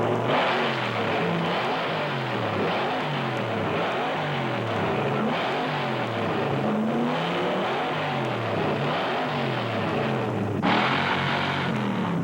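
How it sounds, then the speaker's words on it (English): A loud, continuous drag racing car exhaust roar with rising and falling revs, harsh and close, filling the whole stretch without pause, at a 1992 summer nationals car event. "to create the most ear-pounding exhaust note ever to explode from a combustion chamber"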